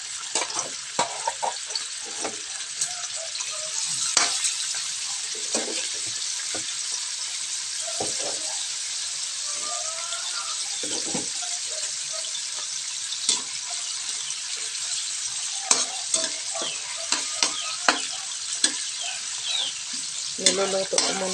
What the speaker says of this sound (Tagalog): Niluluto ko muna yung ground pork para madali yan.